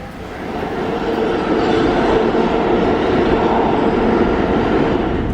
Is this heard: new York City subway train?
yes